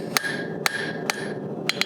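A blacksmith hammers a hot steel J hook on an anvil with the flat face of the hammer, giving sharp ringing metallic strikes at an uneven pace, about six blows in two seconds.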